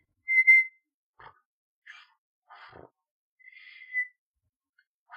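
A man whistling short, thin tones with pauses between them, trying to imitate a rippling instrument; quiet and close, with a few soft breathy sounds in the gaps.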